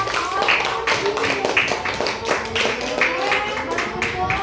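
A sixth-grade maths class claps for a group that has just presented its work, the clapping steady and rhythmic, filling the room, with children's voices mixed in throughout.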